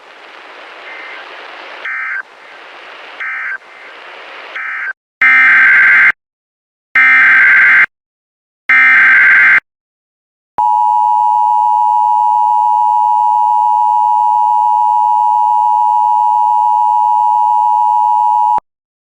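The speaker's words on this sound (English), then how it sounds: "this has only been a test of the National Weather Service's radio warning alarm tone" National Weather Service radio warning alarm tone: a few bursts of buzzy tone, then three loud spaced beeps, then a long, steady, piercing pure tone that holds for about eight seconds, loud and alone with no voices.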